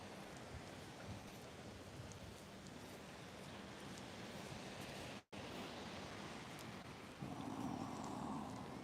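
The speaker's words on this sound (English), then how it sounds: "those ocean waves, smooth ocean waves rolling in" Smooth ocean waves rolling onto an oceanfront shore, a steady broad wash of surf noise, even and continuous with a brief dropout and a slight swell near the end.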